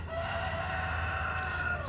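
Roosters and hens on a backyard chicken farm, a sustained rooster crow ringing out over steady clucking and flock chatter, close and loud throughout.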